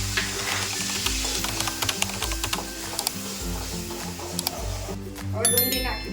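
Tomato puree hits hot oil already holding mustard seeds, asafoetida and garlic-green chili paste for sev onion sabji. It gives a busy, crackling sizzle with spattering pops under a speaking voice.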